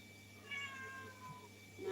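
A cat gives a single soft, drawn-out meow, faint against a quiet background.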